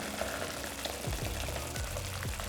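Pasta all'amatriciana frying in a pan with its sauce, a steady close sizzle and crackle throughout, with a few low scraping knocks of stirring partway through.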